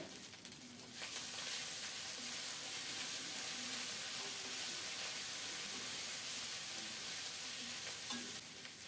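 Ground ginger and cumin paste fries in hot oil in a pan with a steady, continuous sizzle and hiss, interrupted briefly near the start and end, with no voices.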